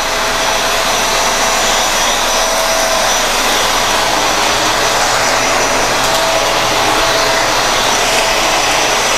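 Eureka Floor Rover Pet vacuum cleaner running steadily and loud at close range, a constant high whine and airy rush that continues without pause and without talk.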